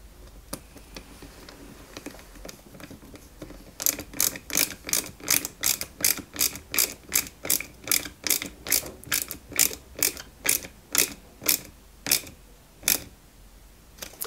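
A screw is driven in to fix an electrical fitting, giving close, crisp ratcheting clicks in a fast, even rhythm of about twenty strokes after a few quieter taps and rustles.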